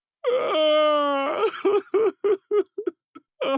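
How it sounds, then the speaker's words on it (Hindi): A voice wails from a well in a long, drawn-out cry, then breaks into a rhythm of short sobbing bursts, close and loud. "कुएं से बच्चों के रोने की आवाजें आने लगी"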